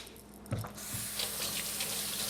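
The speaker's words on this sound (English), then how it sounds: "Then what I do is I just run this under some cool water." Cool tap water runs steadily over a portobello mushroom in a kitchen sink, a continuous close hiss and splatter after a brief clunk as the flow starts.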